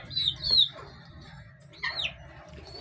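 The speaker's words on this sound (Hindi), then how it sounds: "ये देखें, ये और पेयर है लव बर्ड के।" A breeding pair of lovebirds gives a few sharp, high chirps in two short bursts, close by, over a low background murmur.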